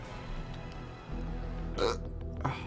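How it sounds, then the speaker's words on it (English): A short, gurgling burp from a person during a livestream of the game The Binding of Isaac, heard once over faint game sounds in the background. "That was a horrible burp."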